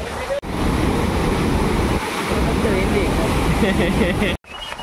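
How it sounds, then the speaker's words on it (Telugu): Strong wind roars at the Musi dam as a dense, steady rushing buffet across the microphone, with churning water beneath and brief dropouts. "గాలి మాత్రం విపరీతం గాలి వస్తుంది."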